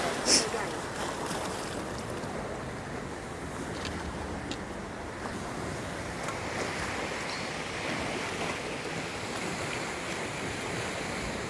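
Steady wash of sea waves breaking on a sandy beach, with wind buffeting the microphone, continuous and fairly close, no talk over it.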